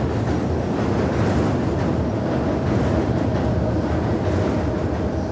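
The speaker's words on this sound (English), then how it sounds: "So here we are under the elevated train line above Frankfort Avenue." An elevated train rumbles overhead above Frankfort Avenue, a steady, loud, dense roar with faint rail clatter that holds for the whole stretch, heard from the street below.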